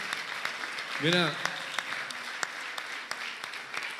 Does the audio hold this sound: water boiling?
no